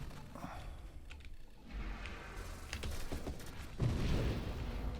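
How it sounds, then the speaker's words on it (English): Soft, muffled explosions in the space shooter Nova Drift pop in a rolling cluster under a steady game noise bed, fairly quiet and distant-sounding. "look at those pretty little explosions"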